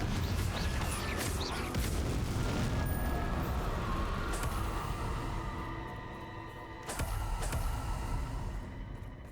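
Fiery blasting-spell explosions from Confringo in the game Hogwarts Legacy, a dense run of booming bursts that stays loud throughout, dips briefly, then returns with another sharp blast.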